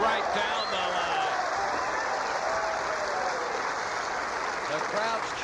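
Spectators at a 1990 women's professional tennis match in Boca Raton cheer and applaud loudly and steadily after a point, a dense sustained wash of clapping with voices mixed in.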